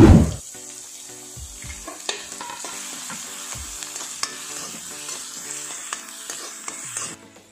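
Chopped onions and curry leaves fry in a pan with a steady close sizzle, broken by occasional scrapes and clinks of stirring, with no talking.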